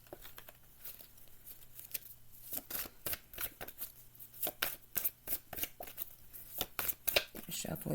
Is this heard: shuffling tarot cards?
yes